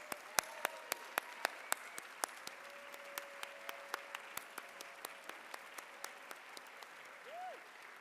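Scattered claps from a small luncheon audience, sharp individual hand claps spaced out at a steady pace, fairly faint, with a sustained tone and a brief rising whistle near the end.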